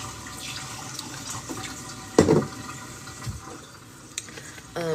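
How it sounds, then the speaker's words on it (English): Water runs and splashes into a sink, a continuous close wash of liquid with a few sharper splashes and clatters partway through. "You think that's a funny sound, the splashing of the water?"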